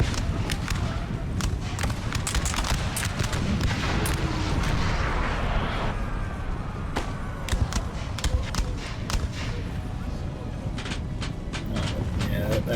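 Massed musket volleys and artillery fire crack and boom in a Napoleon: Total War mountain battle, dense sharp reports in steady bursts layered over a continuous roaring battlefield din.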